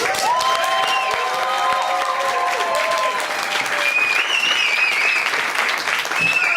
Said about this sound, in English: Please, let me hear a big round of applause for your first performer tonight